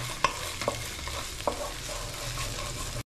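Something fries softly in a pan with a low, steady sizzle, and a few sharp scrapes from a spatula or spoon stir it.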